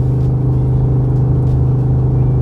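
A Ford F150 pickup's 5.0L Coyote V8 pulls hard uphill, a loud, steady low engine drone and rumble close by inside the cab, with no talk over it.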